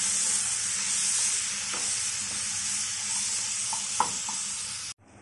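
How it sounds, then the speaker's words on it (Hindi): Chicken pieces fry in hot oil in a pan for a panini filling, giving a steady, loud, close sizzle with a few small pops, which cuts off abruptly near the end. "तेल अच्छी तरह से गर्म हो चुका है तो हम इसके अंदर डालेंगे चिकन। चिकन को 15 से 20 मिनट तक हम फ्राई कर लेंगे तेल के अंदर।"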